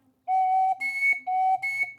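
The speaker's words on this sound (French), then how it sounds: "on a un sifflet qui fait déjà deux sons sans avoir de trous" A whistle carved from a carrot, with no finger holes, sounds twice in a row, each blast starting on a low clear tone and jumping to a higher shrill note, close and fairly loud.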